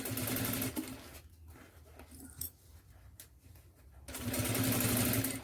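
Sewing machine stitching through PVC for an organizer basket, two bursts of fast, close mechanical stitching separated by a quieter pause of handling sounds.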